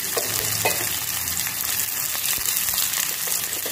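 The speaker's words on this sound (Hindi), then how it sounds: "तो प्याज जो है वो हमारा फ्राई हो चुका है" Finely chopped onion with green chillies fries in a pan for bread pakoda, a dense continuous crackling sizzle with faint stirring bumps, close and steady for a few seconds, no one speaking.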